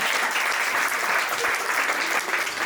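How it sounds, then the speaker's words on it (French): Loud, dense applause from an audience at a stand-up comedy and improv show, continuous clapping filling the room without a break. "par applaudissement, qui est en couple dans la vie?"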